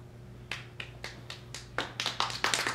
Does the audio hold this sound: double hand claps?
yes